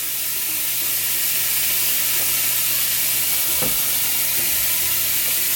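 A burger patty topped with onions, seasoned with Montreal steak spice, sizzling loudly in a pan: a dense, constant crackling hiss with a single soft thump partway through, and no voices.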